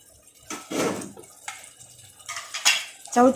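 Chopped chayote tipped into a pan of softened tomatoes for sambar and stirred, giving clattering scrapes and clinks of a spoon against metal in brief uneven bursts, close by with no talk.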